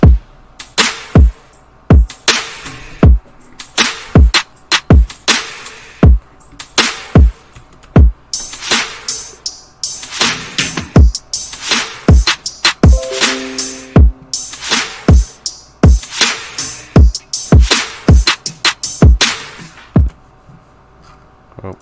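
The drum group of an electronic music drop hits in loud, punchy, evenly spaced beats with sharp transients, a driving rhythm that thins briefly toward the end.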